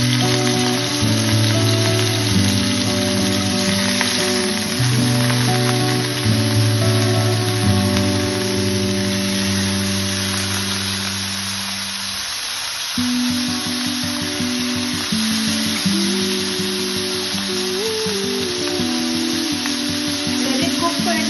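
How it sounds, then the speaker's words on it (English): Chicken wings for a Coca-Cola chicken recipe frying in hot oil, a steady dense sizzle and crackle under a continuous bed of background music, dipping briefly near the middle before resuming. "Now the oil is hot. I will put in the wings."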